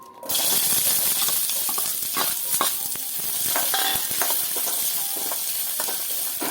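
Finely chopped onions frying in hot oil in a pan, a steady dense sizzle from start to end with scattered small crackles and pops, close and fairly loud with no voices.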